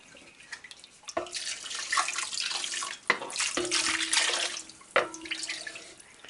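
Hot water pours into a cheese pot while Gouda is made from sheep milk, coming in three close, splashing bursts that each start abruptly and run a second or two.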